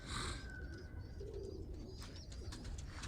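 Young Birmingham Roller pigeon squeakers coo softly nearby in short repeated calls, with a few higher chirps mixed in and no talking.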